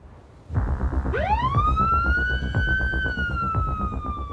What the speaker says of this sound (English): I'm doing like some sirens.